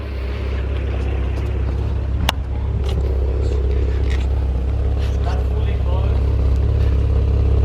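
A 2JZ-engined Lexus IS300 with a Varex aftermarket exhaust idles with a deep, rumbling note, punctuated by a sharp click and brief revs, with people talking faintly in the background.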